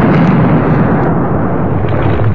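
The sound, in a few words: explosion of airstrikes on Taliban forces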